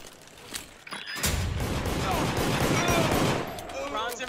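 Sustained burst of gunfire in the multiplayer video game Deceit, a dense loud rattle of rapid shots lasting a few seconds after a brief quieter lead-in, with faint background game sound.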